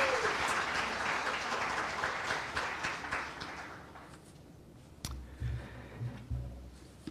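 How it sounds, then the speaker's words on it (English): An audience at a Senate debate at the Nebraska State Fair applauds with dense clapping that gradually thins and fades, followed by quieter room noise and a few soft sounds near the end. "Please don't applaud."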